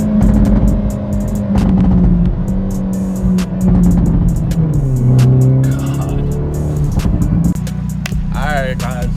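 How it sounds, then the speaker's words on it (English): A Hyundai Elantra N with a new loud aftermarket exhaust, deep bassy engine drone rising and falling through several revs, with someone talking over it throughout. "But right now, I'm loving this exhaust."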